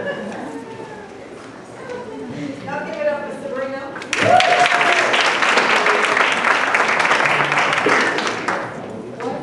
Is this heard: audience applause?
yes